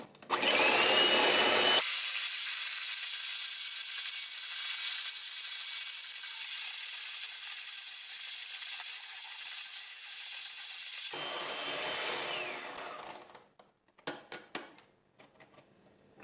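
An electric hand mixer whirs steadily as it beats egg whites with a pinch of salt in a bowl for a layered cake batter, a loud continuous motor drone lasting several seconds before cutting off, followed by a few scraping clinks.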